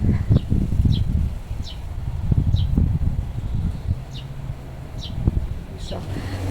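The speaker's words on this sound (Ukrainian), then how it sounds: "Оце вітер, жах" Gusty wind buffets the microphone and rustles garden plants in bursts, with a few faint high chirps in the background.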